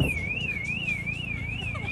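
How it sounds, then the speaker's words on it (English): A car alarm wails with a steady rising-and-falling siren tone, moderately distant, repeating evenly. "By a car alarm."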